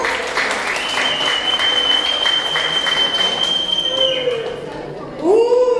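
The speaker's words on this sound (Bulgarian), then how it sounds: "Аплодисменти за Станка" A crowd claps steadily through a New Year's party on a Corfu group tour, dense and close, while a host's voice talks over it; near the end a rising tone cuts in.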